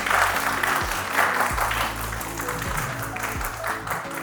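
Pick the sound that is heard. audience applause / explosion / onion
audience applause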